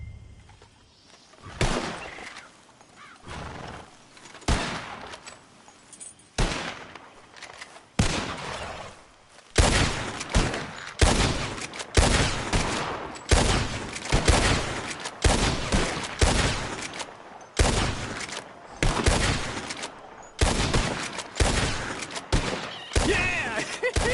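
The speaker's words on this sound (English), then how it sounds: "As soon as you see them, start shooting." Rapid gunfire in a shooting contest in the Red Dead Redemption 2 video game: sparse loud shots at first, then a dense run of sharp, evenly repeated blasts that continues steadily for about twenty seconds.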